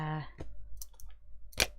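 Tim Holtz scissors snip through craft tape, giving a couple of sharp, close clicking cuts after a brief bit of voice.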